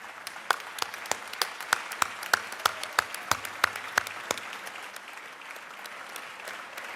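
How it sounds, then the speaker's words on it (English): Sparse, distinct hand claps echo through the Georgia House of Representatives chamber during a legislative session, a dozen or so separate claps that thin out and leave a quiet room hum. "Let's do one more round of applause for the Georgia House of Representatives"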